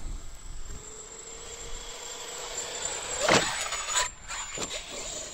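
A Traxxas Xmaxx 8S RC truck drives at about half throttle toward a propped-up ramp, its electric motor giving a steady high whine with a louder surge in the middle, plus a few sharp bursts near the end.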